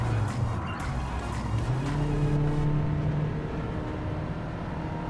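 Toyota C-HR engine in Gran Turismo 7 revving and pulling under acceleration, a steady droning tone that climbs in pitch, loud and continuous with no talk.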